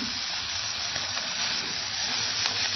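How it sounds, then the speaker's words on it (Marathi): Konkan-style dried fish chutney made with kokum fries in a spoonful of oil, giving a steady close sizzling hiss with faint stirring scrapes and no talk. "एक चमचा तेलातच आपण ही छान अशी खमंग परतून घ्यायची"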